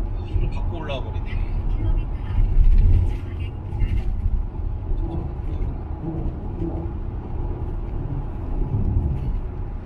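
A Kia Sportage LPG car climbing a hill and overtaking, its engine giving a steady low rumble with a brief swell partway through, while people talk inside the cabin.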